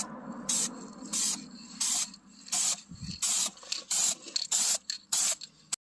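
A spray can lays a second coat of primer on a rusty car door jamb in short, close hissing bursts of about a second each, separated by brief pauses and growing quicker toward the end.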